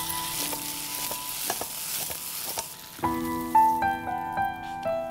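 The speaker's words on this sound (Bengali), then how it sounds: "এটা আমি সতে করব" Food tossed with oyster sauce in a wok sizzles and crackles steadily, then a spatula clinks against the metal pan in a few ringing strikes, with no talking.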